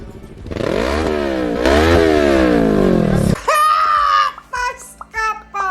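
A motorcycle exhaust revs loudly, its pitch climbing and falling in two long surges, then voices talk and shout close by.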